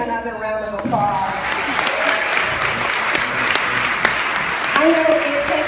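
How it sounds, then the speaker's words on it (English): Audience applause after a spoken-word performance, loud and sustained clapping from a crowd with a voice talking over it at the start and again near the end. "Please give him another round of applause."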